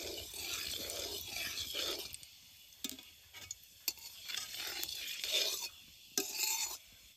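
Panch phoron spices fry in the oil left from frying fish, with a spatula scraping and stirring in the pan: bursts of crackling sizzle come and go in an uneven rhythm, close and fairly quiet.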